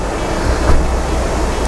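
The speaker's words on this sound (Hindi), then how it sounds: "झरने का आवाज़ को सुनते हुए" Kuekhola Falls in the forested, cloudy hills of Zuluk, Sikkim, rushing as a steady, dense roar of falling water, full and close with no voices over it.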